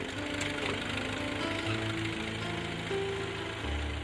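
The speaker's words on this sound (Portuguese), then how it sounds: "Outra maneira de fazer o buraco é utilizar o trator com este implemento." A tractor-driven soil auger bores a fence post hole for a smooth-wire fence, giving a steady, loud mechanical rumble with a rattling, knocking rhythm that runs without a break.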